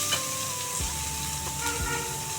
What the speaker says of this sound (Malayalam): ഇപ്പം ഞാൻ ഒരു 6-7 വെളുത്തുള്ളി ചതച്ചത് അതും കൂടെ ഇതിൻ്റെ കൂടെ ആഡ് ചെയ്യണം.